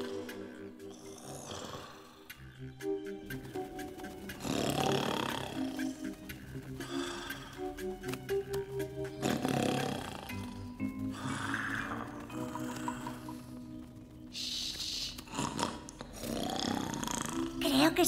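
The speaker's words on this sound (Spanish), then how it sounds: "¡El oso! Mira, el ruido sale de esa cueva." A cartoon bear growls from inside a cave, low rumbling roars rising and falling in several bursts over a musical score, with characters speaking over it.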